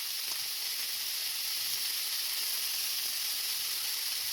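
Garlic, thyme and bay leaf fry with bacon in a pan, a close, steady bright sizzle with no break, alone and without talk.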